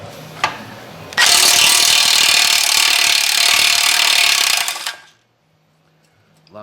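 An impact wrench on a 1985 Buick Regal big block build, removing a big nut from the backing plate: a loud, dense, rattling hammering burst that runs about four seconds after a short earlier blip, then cuts off to near silence.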